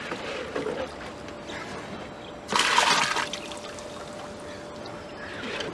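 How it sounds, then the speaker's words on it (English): Leftover rainwater tossed out of a fishing boat at high tide, a single loud splash and pour midway through over a quiet outdoor background with faint scattered sounds. "I'm throwing out the water because yesterday it rained, so we have got all the water left in the boat"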